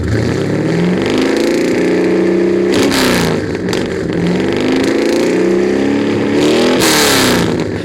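A Ford car with an exhaust system from the headers back taken from a 2003 Cobra and fitted with louder aftermarket mufflers revs repeatedly up and down, loud and close, with two sharp blips, and no one talks.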